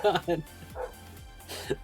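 A neighbor's dog barks a few times from outside, fairly faint and distant, mixed with a person talking nearby in a hot room with the window open.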